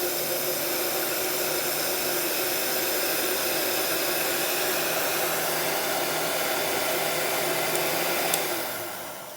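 A heat gun running on battery-inverter power at a job site blows a loud, steady hissing roar that holds constant before easing off at the very end.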